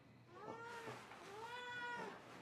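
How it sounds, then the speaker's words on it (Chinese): A cat meows a few times in a row, drawn-out tonal calls close by, with faint room background and no talk. "宝宝带猫咪回来"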